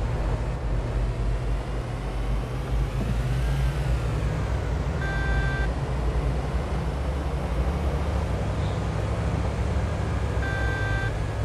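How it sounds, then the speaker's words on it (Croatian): A video game car accelerating slowly gives a continuous low engine drone with steady road and wind noise. It stays loud and even throughout, with faint tonal beeps now and then and no talk. "Sad ovo auto dosta sporo ubrzava."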